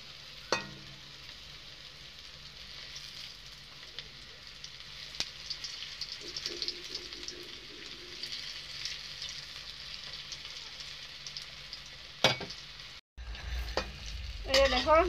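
Raw banana kofta fries over low heat in an iron pan, giving a steady soft sizzle with a few sharp utensil clicks. A louder clatter and a brief break come near the end.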